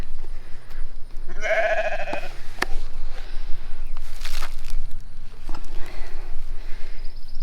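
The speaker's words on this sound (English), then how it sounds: "They are milk sheep." A milk sheep gives a loud, close bleat, followed by shuffling, rustling movement and faint farmyard noise.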